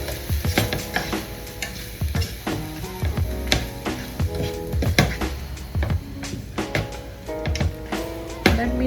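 Lemon rice is mixed with salt and lemon juice, a spoon clacking and scraping sharply against the vessel in quick, uneven strokes, close and fairly loud, with a faint sizzle beneath.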